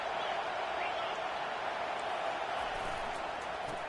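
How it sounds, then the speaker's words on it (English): College football stadium crowd, a broad continuous roar of many voices, steady and distant-sounding, with faint talk underneath. "Listen to the crowd energy here in the early going"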